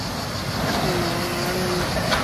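Large trucks passing near a parking lot by the sea outside Rome: a loud, continuous broadband rumble of heavy road traffic close by.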